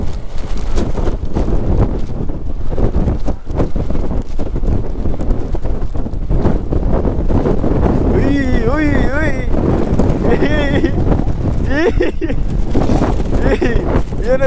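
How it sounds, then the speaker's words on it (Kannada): Strong wind buffets the microphone continuously while riding a motorbike on a monsoon ride up to Mullayanagiri peak near Chikkamagaluru, a loud steady roar running throughout with voices talking in the second half. "ಗಾಳಿನೂ ಹಂಗೆ ಐತೆ ಗೈಸ್. ಆಲ್ಮೋಸ್ಟು ಗಾಳಿನೂ ತೊಳಿತೈತೆ,"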